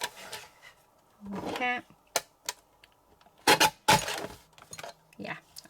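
A paper trimmer slices through card during handmade card-making: a few sharp clicks, then two quick scraping cuts close by. A brief spoken word comes just before them.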